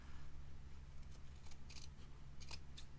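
Scissors trim the edges of a small fabric pillow, giving a few faint, crisp snips in quick clusters over a low steady room hum.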